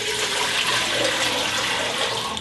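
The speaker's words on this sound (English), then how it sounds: "We are going to add 8 cups of water." Eight cups of water poured into a pan on high heat for making homemade coffee liqueur, a steady loud splashing rush that continues throughout without a break.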